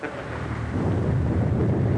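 Thunder from a heavy storm rolls as a low, continuous rumble that swells slightly partway through and stays loud to the end, with no voices.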